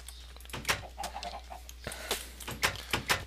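Chickens cluck in a pen in the Minecraft video game, with short, scattered bursts through the clip at moderate loudness and no talk.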